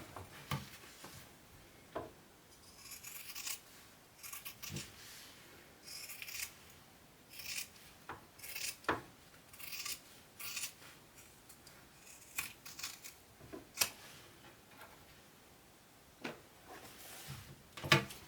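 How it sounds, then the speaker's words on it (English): Scissors trim the fabric seam allowance of a sewn apothecary bag down to about an eighth of an inch. Crisp snips and blade rubs repeat in uneven bursts, close by, with no talking. "cut our seams down to about 1/8 of an inch to get rid of that"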